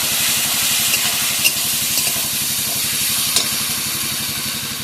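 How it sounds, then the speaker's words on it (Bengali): Ginger garlic paste hits a hot pan with tomatoes for a crab curry, giving a loud, continuous close sizzle with a faint pulsing undertone and a couple of brief sharper crackles. "এবার আমি আদা রসুন বাটাটা দিয়ে দেবো।"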